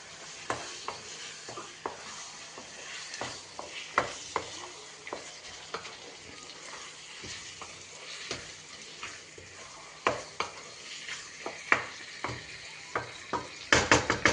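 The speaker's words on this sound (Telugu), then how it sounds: "చికెన్ని ఇప్పుడు ఇందులో వేసేసేయాలి. అంతా కలిసేలా కలుపుకోవాలి ఒకసారి." Cleaned chicken being stirred into a frying masala for chicken gravy curry: a soft steady sizzle with regular spoon scrapes and taps against the pan throughout, growing busier in a quick flurry of clatters at the close, no voices.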